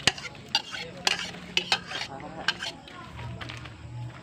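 Onion stirred into simmering coconut milk for a spicy Bicol-style native chicken dish: sharp spoon clinks and scrapes against the pot over a low bubbling sizzle, close up, without talk.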